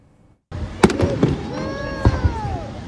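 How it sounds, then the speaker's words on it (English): Fireworks going off at a July 4th celebration in Renaissance Park, a burst of loud booms and crackling pops after a short silence, with whistling trails rising through the echoing reports. "fireworks popped off in Renaissance Park"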